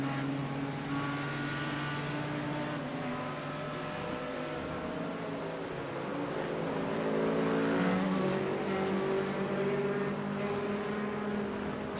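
GT3 race cars at Monza, engines droning steadily and loud throughout with shifting pitch as a car comes back up to speed close behind another, rising slightly in the latter half.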